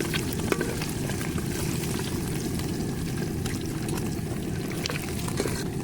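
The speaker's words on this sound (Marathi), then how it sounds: "बघा अंडे एकदम प्रॉपररित्या म्हणजे फ्राय झालेले आहेत" Eggs fry in oil on a street food cart for egg curry, a steady close sizzle and spatter with scattered crackles and faint clinks throughout.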